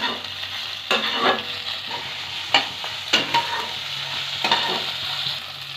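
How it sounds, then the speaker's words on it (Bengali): Spice paste for a tangra fish curry being stirred and fried in a pan, with a steady sizzle broken by several scraping strokes of the spoon, close and clear and with no voices. "এবার আগের থেকে তৈরি করা বাটা মশলাটা দিয়ে দেব। ভালোভাবে মিশিয়ে নেব।"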